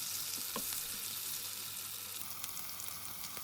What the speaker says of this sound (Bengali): তো মরিচ এবং পেঁয়াজ আমি একসাথে একটু ভেজে নেব।